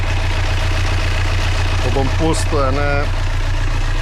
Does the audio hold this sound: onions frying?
no